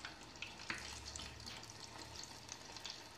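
Cottage cheese doughnut dough balls sizzle and crackle steadily in hot oil, a continuous frying hiss with scattered small pops.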